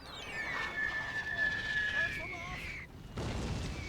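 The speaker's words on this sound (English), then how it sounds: "But I think my artillery is hitting them." Cannon fire from artillery batteries on a Napoleonic-era battlefield in a strategy game, heard as dull distant booms under a sustained battle din with whistling, then a fresh burst of noise near the end.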